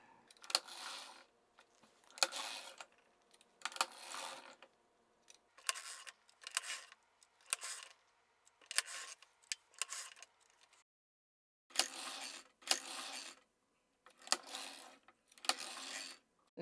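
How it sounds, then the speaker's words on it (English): A hand-cranked sock knitting machine clacks and ratchets in short repeated bursts as its crank turns the toe on the back half of the needles, each pass a quick mechanical clatter separated by brief pauses, close and fairly quiet. "We're going to crank the toe on the back half of the machine."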